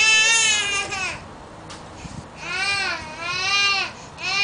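A baby cries and screams in long, harmonic wails, loud and close, with a short pause in the middle before the crying resumes in repeated rising and falling bursts.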